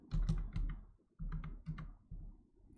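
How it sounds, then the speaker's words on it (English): Quiet computer keyboard typing in short bursts of clustered keystrokes with brief pauses between them, close and alone. "I'm going to type"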